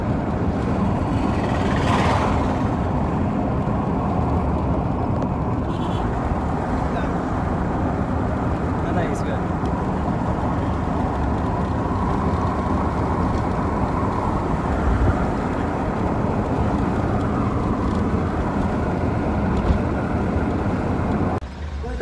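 Inside a vehicle on a long village road journey in Africa, a steady low rumble of engine and road noise fills the cabin, unchanging and constant for the whole stretch.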